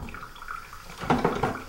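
Shower water running over a screenprinting screen being washed out, a soft wash of flowing water that turns into louder splashing spurts in the second half.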